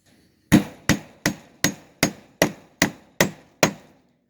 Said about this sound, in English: As you nail them in, it'll actually pull the wire sideways